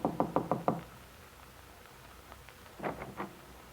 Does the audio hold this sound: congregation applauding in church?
no